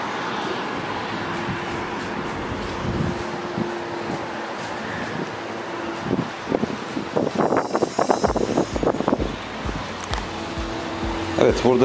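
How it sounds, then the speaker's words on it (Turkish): Wind gusting across an open terrace in Didim, buffeting the microphone with rumbling low roar and rising bursts of crackling distortion, loud and close throughout under spoken talk. "biraz rüzgarlı, aynı zamanda terasta olmamızdan dolayı güzel bir esinti var ve bu mikrofona kötü yansıyor"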